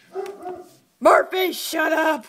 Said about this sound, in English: He's barking at the neighbors.